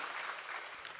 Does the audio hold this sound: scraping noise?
no